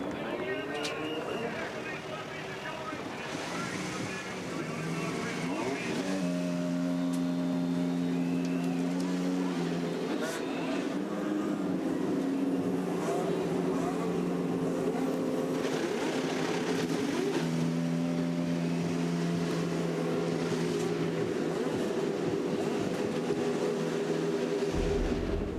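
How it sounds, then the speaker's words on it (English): IndyCar race car engines fire up and idle at the Long Beach Grand Prix, with several engines droning and revving in layered tones across the stretch, crowd and announcer voices mixed underneath. "Gentlemen, start your engines"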